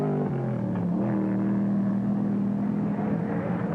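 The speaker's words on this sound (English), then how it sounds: "The Camaro heads for the finish line all alone" A Chevrolet Camaro racing in the Trans Am Series, one engine holding a steady droning tone after a brief pitch shift, continuous and fairly close.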